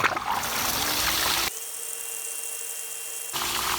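A Hayward Pro Grid DE pool filter runs on backwash as a steady rushing, hissing water flow with a constant pump whine, and its tone shifts sharply partway through, then returns near the end.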